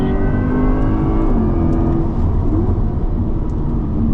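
A Chevy Corvette E-Ray accelerates hard on a race track, its engine note rising in a loud, close, continuous whine and roar with pitch sweeps as it shifts.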